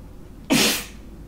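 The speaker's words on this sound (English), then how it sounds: "And then when I start sneezing," A single sharp, close sneeze bursts out loudly and fades within about half a second, with quiet room tone before and after.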